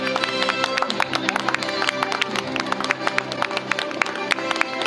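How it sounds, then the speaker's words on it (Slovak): Outdoor crowd applause for a trio of young runners at a marathon event, a steady dense patter of clapping hands at moderate loudness, with no talk heard over it. "veľký potlesk pre túto trojicu"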